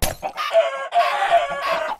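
Chickens cluck and squawk in a few close, loud bursts over two seconds, a busy run of fowl calls with no voices.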